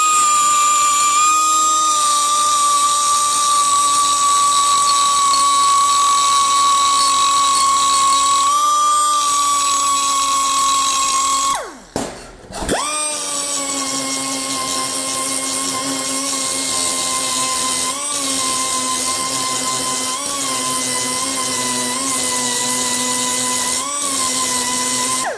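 A PDR PRO 430 pneumatic mini die grinder with a mounted point finishing a surface gives a loud, steady high-pitched whine that holds for most of the stretch, dipping and spooling back up once near the middle.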